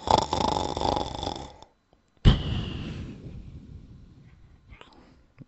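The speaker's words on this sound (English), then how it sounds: "He waited until the snores of the old witch announced she was fast asleep." An old witch snores while asleep in a spoken story, with two drawn-out rasping snores separated by a short silence, the second tapering off gradually.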